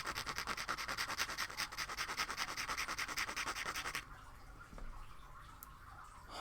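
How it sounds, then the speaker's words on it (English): Sandpaper roughening a surface before gluing in a craft shop, a close, steady run of fast back-and-forth rasping strokes for about four seconds, then stopping to quiet handling sounds, with no talk. "Let me roughen that up with some sandpaper first so the glue has something to snag onto."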